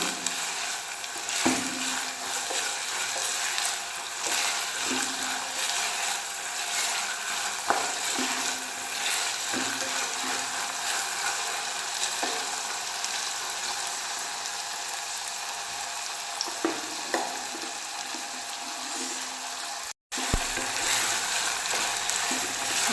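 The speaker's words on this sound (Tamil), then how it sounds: "இந்த கலர் மாறுற வரைக்கும் இது நல்லா எண்ணெயிலே வதக்கிடுங்க." Amla from a home garden sautés in oil, with a continuous close sizzle and periodic scrapes and taps as it is stirred over a long stretch, briefly cut out near the end, with no talking.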